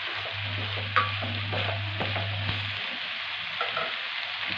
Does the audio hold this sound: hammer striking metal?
no